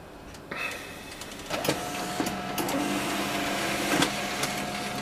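A desktop printer runs a print job for a race evaluation sheet, with mechanical whirring, clicks and a feed motor hum in short bursts, fairly close and moderately quiet, no talking.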